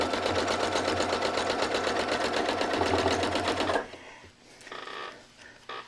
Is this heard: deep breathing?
no